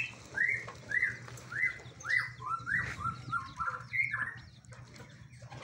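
A young murai batu (magpie-robin) bird under a year old sings a series of loud, clear, rising whistled phrases repeated about once a second, close by, with fainter chirps from other birds in the background.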